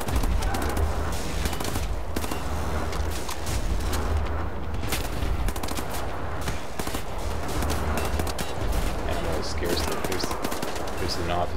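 Gunfire in the first-person shooter Wolfenstein: The New Order, a rapid, continuous automatic-weapon burst with dense repeated shots and booms, loud and close throughout with someone talking over parts of it.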